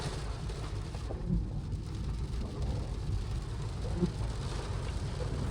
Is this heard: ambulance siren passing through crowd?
no